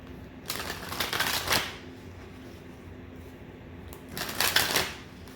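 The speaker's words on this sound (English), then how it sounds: "Let me get a good shuffle here." Two bursts of tarot cards being riffle-shuffled, close and crisp, separated by a quiet pause with low background hum.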